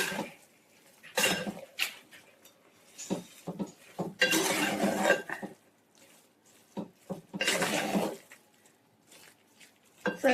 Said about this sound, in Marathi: मग आता चांगलं ना वर खाली हलवून घेऊया.